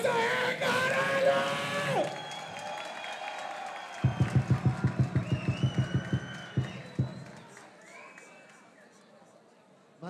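Crowd applause and cheering at a Brazilian rap battle final, with loud shouting voices and whoops at first, then a run of rhythmic, evenly spaced claps and yells that gradually thin out.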